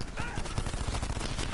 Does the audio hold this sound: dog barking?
no